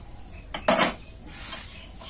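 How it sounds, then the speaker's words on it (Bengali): Cottage cheese (chhana) goes onto a large metal plate in a home kitchen, giving a short clatter of dish and utensil contact, one sharp metallic knock followed by softer scraping, close and fairly quiet with no talking. "এই বড় থালাতে ছানাটা নিচ্ছি।"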